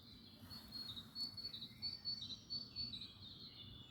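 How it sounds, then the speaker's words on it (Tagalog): Faint high chirps and trills from small birds and insects repeat in a quiet European forest near a city, with soft rustling and a low background hush. "Maririnig nyo mga ibon."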